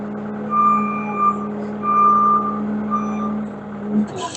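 A Bobcat 753 or S130 skid-steer loader reverses with its backup alarm sounding, steady high beeps over a low engine drone close by, the beeping clearest in the middle and tailing off as the engine note shifts.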